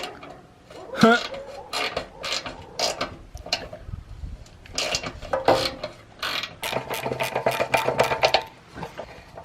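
Quick metallic clicking of a ratchet wrench loosening a badly rusted, corroded nut on a Ford comes in short bursts, close up, with some hard tugs and a voice speaking between strokes.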